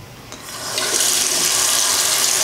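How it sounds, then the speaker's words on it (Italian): Running water pours steadily from a tap while a clay face mask is rinsed off, a close, loud, continuous splashing stream that swells after the first moment. "non voglio diventare una mummia, perciò inizio a sciacquarmi"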